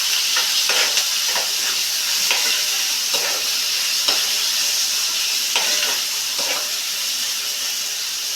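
Tomatoes frying with egg curry masala in a hot pan, giving a loud, steady sizzle and hiss throughout, with faint stirring scrapes now and then and no voices.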